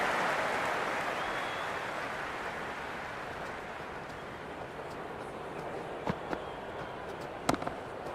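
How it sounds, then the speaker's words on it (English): A dense, steady roar of a stadium crowd cheering in a cricket video game, broad and continuous throughout with a few sharp cracks near the end, no talk over it. "The crowd is electric right now."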